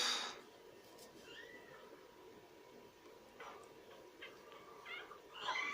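Faint, thin kitten meows, a few short mews scattered over a quiet room with low background hum.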